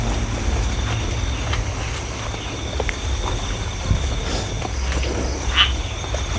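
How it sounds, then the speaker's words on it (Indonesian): Frogs croak at night in a continuous outdoor chorus mixed with insect chirring, with a few louder nearby croaks and faint scattered knocks. "Suara-suara kodok."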